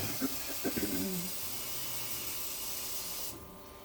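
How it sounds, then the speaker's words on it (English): A steady rush of water pours into a pot for about three seconds, with a few brief clinks at the start, then stops abruptly. "then we're gonna add some of the fresh water here too"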